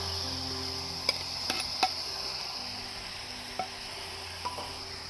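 Pieces of liver frying on a tawa, a steady close sizzle broken by a few soft clicks of stirring or the spatula touching the pan, with no talking.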